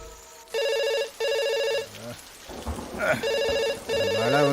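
A telephone rings with an incoming call in repeated electronic trilling bursts, close and clear, while rain and rumbling thunder sound in the background between rings.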